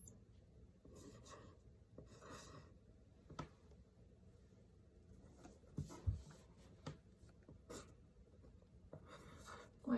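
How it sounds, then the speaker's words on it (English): Pencil writing the word "because" for a kindergarten opinion-writing lesson, a soft, steady scratching and rubbing on paper with a few light taps, close and quiet, with no talk. "Writing the word because."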